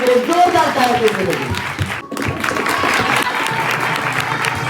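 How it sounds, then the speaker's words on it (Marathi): Loud, sustained applause from an audience after a devotional Marathi kirtan, dense clapping that dips briefly near the middle and then resumes strongly to the end. "जोरदार टाळ्या"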